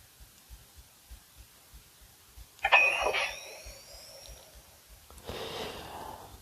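A Crimson Dawn Regent lightsaber powers on: faint rhythmic thumps lead into a sudden bright whoosh with rising electronic whines that fade into a hum, followed by a softer second swell.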